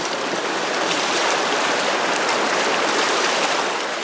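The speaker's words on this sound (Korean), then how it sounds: "빙하가 녹은 강물로 검은 자갈과 모래를 걸러내는데요." A glacial meltwater river where black gravel and sand are being sifted, giving a dense, steady rush of flowing water. The hiss is continuous and fairly loud, with no voices.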